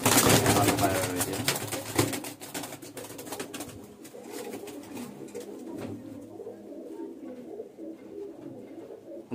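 Adult pigeons kept in a loft coo close by, louder for the first couple of seconds and then settling into a quieter, continuous murmur of calls and rustling.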